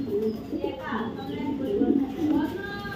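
A pair of large Indian Bombay pigeons coos softly and repeatedly at close range, their low, throaty calls continuing through the moment while faint background chatter and children's voices can be heard nearby.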